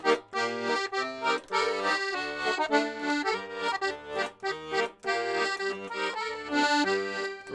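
An accordion plays a Hebrew song, a bright reedy melody over chords in a bouncing rhythm, close and clear with brief pauses between phrases.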